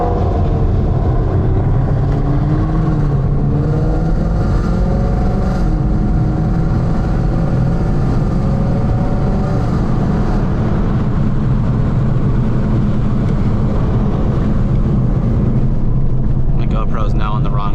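A VMP-supercharged Shelby GT500 running E85 and a Roush Stage 3 Mustang pull hard from a 65 mph roll on the street, with a steady loud engine and road roar throughout and people talking over the noise.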